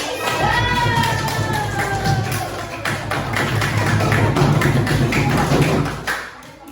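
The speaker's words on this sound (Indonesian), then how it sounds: "Tepuk tangan buat Bapak." A class of children claps together in a room, a steady patter of many hands sustained for several seconds, with a few young voices and shouts mixed in before it stops.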